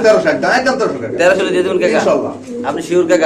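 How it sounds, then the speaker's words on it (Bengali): Hungarian Budapest pigeons coo beneath steady conversation between a seller and a buyer, their soft calls mostly masked by the talking voices throughout. "তো কাকা এখানে আছে হাঙ্গেরিয়ান বিবেক বুদাপেস্ট কবুতর"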